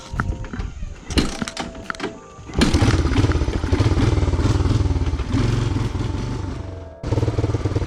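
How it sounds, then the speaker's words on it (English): A 1987 Honda TRX 250 ATV engine sputters and clatters at first, then revs hard at full throttle in a loud, sustained roar that drops off briefly near the end before picking up again, close by. "gas it full throttle it for a second, and it would just bring it back down"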